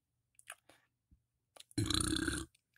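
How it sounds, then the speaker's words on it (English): A single loud, drawn-out burp lasts most of a second, preceded by faint smacking and mouth noises, close and alone. "You burped!"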